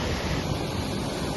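Powerful river current rushing after water is released from a dam, a dense, loud, steady roar of churning water filling the whole clip without pause, with no voices.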